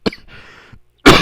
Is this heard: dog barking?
no